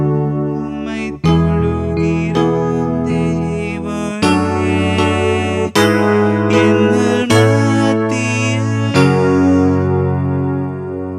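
Keyboard chords building up to a chorus in a church song, sustained, effect-heavy tones changing in a series of distinct steps, loud and close with no talking.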